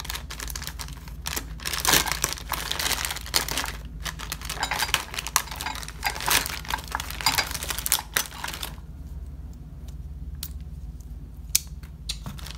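A knife saws and snaps through the zip ties and packaging of a boxed Go Power Sports 30 Series torque converter clutch, producing a long run of close, irregular plastic clicks, scrapes and crackles.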